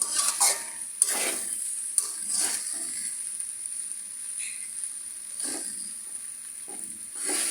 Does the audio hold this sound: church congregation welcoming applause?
no